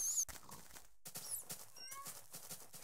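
A horse in Minecraft gives a short whinny amid other game noises and soft clip-clop steps, fairly close and clear.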